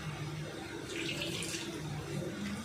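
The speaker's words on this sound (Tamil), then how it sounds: "இப்போ நம்ம தேவையான அளவு தண்ணி ஊற்றி" Water being poured into bonda batter flour in a home kitchen, a soft continuous splashing trickle that swells in the middle and fades out again.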